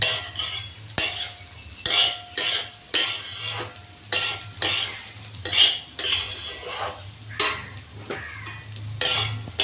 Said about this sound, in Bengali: এটাকে আমি একটু কিছুক্ষণ নেড়ে চেড়ে নিয়েছি ঠিক আছে ভালো করে মিশিয়ে নিয়েছি